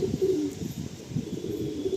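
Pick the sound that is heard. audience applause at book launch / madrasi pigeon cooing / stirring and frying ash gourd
madrasi pigeon cooing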